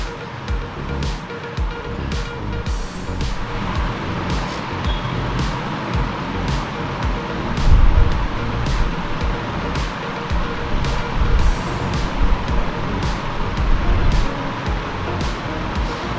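A motorcycle creeps down a very steep, loose dirt hill in first gear, giving a continuous low engine rumble mixed with wind buffeting and gravelly tyre noise, growing slightly louder midway.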